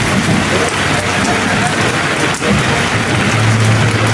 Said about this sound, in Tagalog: Lakas ng ulan oh, grabe oh.